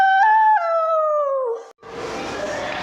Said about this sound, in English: Animal name is wolf, young one is pup,